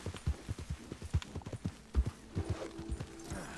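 Horse hooves clip-clop in a steady trotting rhythm in Red Dead Redemption 2, close and moderately loud, with a brief low whinny-like tone near the end and no talking.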